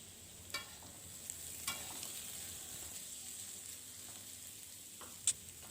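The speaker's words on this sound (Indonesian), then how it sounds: "Sekarang masukkan tangkai brokolinya. Kemudian aduk-aduk sampai tangkainya ini sedikit layu dan sedikit lebih matang ya teman-teman." Broccoli stems stirred in a frying pan with a soft, steady sizzle, a few sharp scrapes of a utensil against the pan standing out, quiet and close with no talking.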